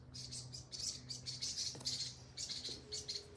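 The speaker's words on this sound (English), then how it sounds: "Pretty bird sounds." Birds chirping in quick bright bursts of tweets, repeated in short clusters over a faint low hum, moderately close and otherwise alone.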